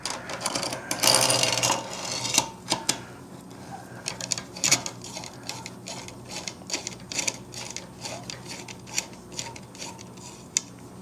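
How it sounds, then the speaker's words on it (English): A homemade bolt is worked into a Sportsman GEN4000 generator engine with a flathead screwdriver, giving a series of small metallic clicks and scrapes in an irregular rhythm, close by and fairly quiet. "try to get it threaded in, you know, using that flathead screwdriver"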